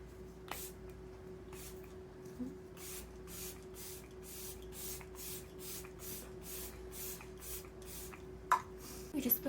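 Repeated short spritzes of makeup setting spray from a spray bottle, about a dozen quick bursts in a fairly even rhythm, close and soft over a faint background hum.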